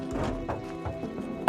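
Footsteps on a roof in an audio drama, heard as a series of close, hollow thuds in an irregular walking rhythm with a faint tone underneath, alone and without talk.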